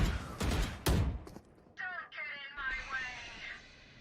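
Bursts of gunfire in Valorant erupt during a pro match on the Icebox map: a few loud, dense volleys crack out up front, then give way to quieter, high-pitched ability and game effects.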